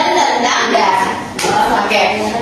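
A group doing a rhythmic spirit clap (tepuk semangat) in a classroom-style setting: dense, steady rapid clapping from many hands, loud and close, with voices mixed in.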